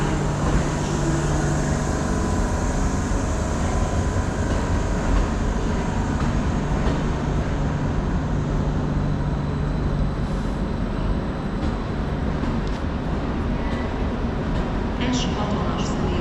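Trains at Keleti railway station in Budapest, a steady loud rumble of rail and station noise running throughout with a persistent low hum, while a public-address voice speaks over it.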